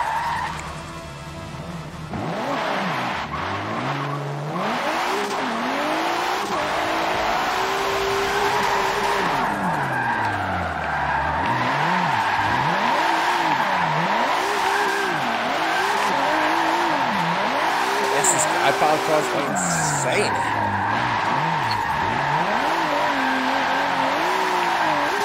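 In the Forza racing game, a car drifts with its wheel at full lock, tires squealing in long wavering screeches over a steady engine drone for an extended continuous slide, loud and alone.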